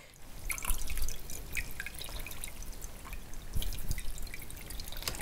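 Rendered lard is poured through a cheesecloth-lined sieve, with close, continuous trickling and dripping and a few sharper splashes.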